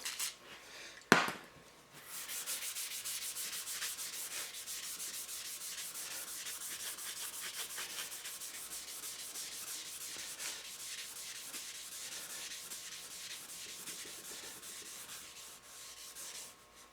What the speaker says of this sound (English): try a little Scotch-Brite on those.